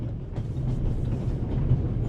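A train in the remastered adventure game The Raven rolls steadily along its rails, a continuous low rumble with faint rhythmic clatter that holds even throughout, with no voices over it.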